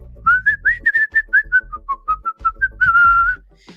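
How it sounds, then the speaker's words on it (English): A man whistles a lively tune close up, a quick run of short clear notes ending in a longer held note, alone with no talk. "You got a pretty good whistle on us there, son."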